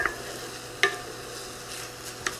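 A ground beef mixture with ginger, garlic and green onions sizzles softly in a pan while being stirred, with a few light utensil scrapes and taps against the pan, close and quiet with no talk.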